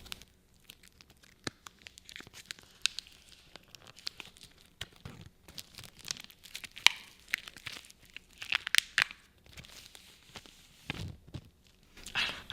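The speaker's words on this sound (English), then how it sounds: "I'm gonna unbox this and see what's inside and get ready to submit the kit" Ancestry DNA kit being unboxed, its paper and plastic packaging torn and crinkled in short, close, irregular bursts of tearing and crunching, recorded quietly ASMR-style with no talking.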